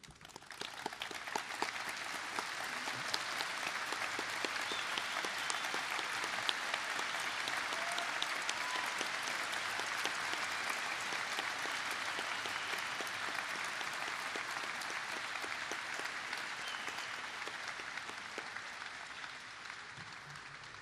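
Sustained audience applause at a ceremony honoring guests, with the B-17F Memphis Belle on display, dense steady clapping from a large crowd running continuously and evenly for about twenty seconds before easing slightly at the end.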